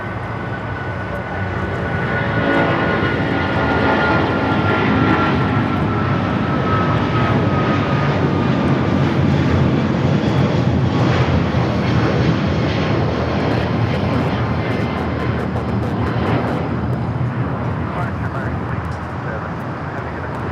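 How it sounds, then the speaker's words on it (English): An American Airlines Boeing 777 takes off at LAX, bound for Dallas Fort Worth, with a loud, continuous jet roar that builds within the first seconds and holds steady. "American 777 now rolling down."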